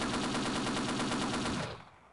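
Rapid machine gun fire in the Half-Life video game, a loud, dense rattle of evenly spaced shots that runs steadily for about a second and a half and then cuts off into a short fading tail.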